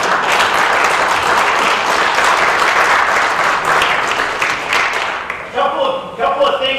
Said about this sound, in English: I think you should give yourselves a round of applause for what you've done